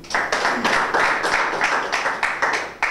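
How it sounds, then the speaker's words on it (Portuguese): Steady rhythmic clapping from a group, moderately loud and close, with distinct evenly spaced hand claps running for a few seconds. "aplauso para o Boizinho"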